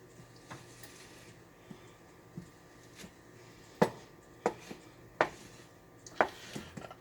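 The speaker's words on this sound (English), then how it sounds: "Let's go ahead and stir our soup again" Cheesy enchilada soup is stirred in a pot: a soft, low background broken by a few sharp spoon scrapes and knocks against the pot, sparse and irregular, close by, with no talking.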